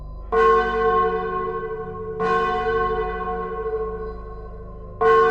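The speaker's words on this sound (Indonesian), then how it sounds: "Dari kejauhan, terdengar suara lonceng kecil." A bell rings three times with long, shimmering tones that hang and slowly fade between strikes, clear and prominent with nothing else around it.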